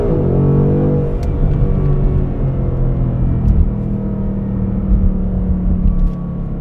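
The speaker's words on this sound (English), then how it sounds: "that is a glorious exhaust note" A Ford Mustang GT V8 accelerating, its deep rumbling exhaust note loud and close from inside the car, rising in pitch early on and then holding a steady, throbbing drone.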